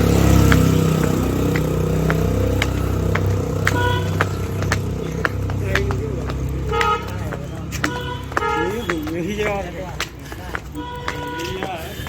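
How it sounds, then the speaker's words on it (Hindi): A motorcycle climbing a very steep hill road near rock-carved Jain temples, its engine rising in the distance beneath horn toots, other traffic and someone talking over it. "नीचे देखिए वो बाइक दिख रही है आपको आती हुई"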